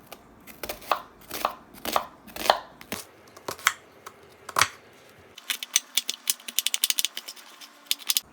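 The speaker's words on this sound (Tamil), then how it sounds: "இப்போ வெங்காயத்தை கட் பண்ணிக்கிறோம்." Onions chopped with a knife on a board for a spicy Coimbatore-style prawn thokku, a run of sharp close knocks, slow and spaced at first, then a quick even patter of rapid chops.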